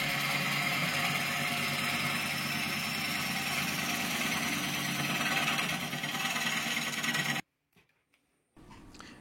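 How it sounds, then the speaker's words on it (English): Rough-turning a wooden bowl blank on a lathe makes a loud, steady, bumpy whirring drone that runs continuously for about seven seconds before stopping abruptly, followed by near silence and faint low rumbling. "Here I am rough shaping the wood on the lathe."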